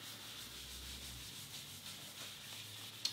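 Cloth rubbing Crimson Guitars finishing oil into guitar wood in light, buffing strokes, a soft continuous close-up swishing with one small tap at the end.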